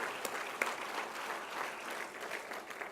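An audience at a college's State of the College address claps steadily in a hall, a fairly faint, even patter of many hands with one sharper clap standing out early.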